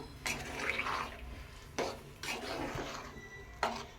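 Gongura prawn curry being stirred in a pot with a spoon, soft scraping and several sharp clinks of utensil against the metal pot, close and fairly quiet.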